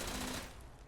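A dense, continuous roar of rapid gunfire aimed at turrets in Fallout 76 fills a brief moment, loud at first and easing slightly.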